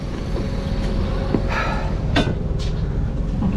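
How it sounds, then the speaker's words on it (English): Steady low rumble of a tram in Vinnytsia, Ukraine, with brief brighter squeals and clanks rising now and then over the continuous noise. "We're now having to run for the tram."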